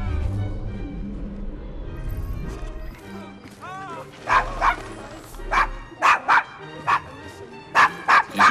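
A dog barks in Assassin's Creed Syndicate, a run of sharp, fairly close barks coming in a steady rhythm through the second half, after a stretch of quieter game ambience.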